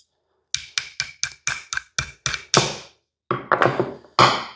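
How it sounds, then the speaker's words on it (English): Hammer tapping a trigger pin into a Savage model 330 rifle: a quick run of about nine sharp metallic taps, then a short pause and several more firmer blows, close and clear with no talking. "You might have to just give it a little bit of persuasion with a hammer."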